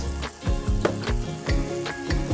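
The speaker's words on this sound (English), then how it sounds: "You can keep hearing the sizzle as it goes along." Vegetables and chicken for a curry sizzle and crackle in a hot pan, with repeated clatters of stirring cutting through the steady frying hiss.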